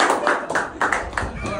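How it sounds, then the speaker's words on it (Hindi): Clapping from people at a birthday celebration with a stage, coming as a steady run of bursts mixed with loud talking and crowd noise. "तालियां"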